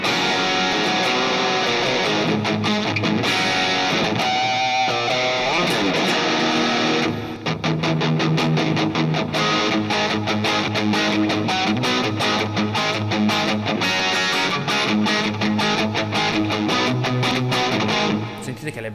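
Electric guitar through a Helix modeler, set up with dotted-eighth delay repeats, plays loud distorted riffs and fast repeated notes that echo in rhythm, the tone continuous and full.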